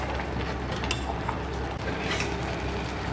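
A spoon stirs rice and hilsa pulao inside a rice cooker, giving a steady, soft scraping and rustling of grains against the pot, close and continuous, with no talking.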